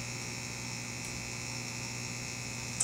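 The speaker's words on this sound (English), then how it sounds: "vacuum coming out of the end of the vacuum pen" A vacuum pump for a gemological vacuum pen runs with a steady, even electrical hum at moderate level, unchanging throughout with a small click near the end.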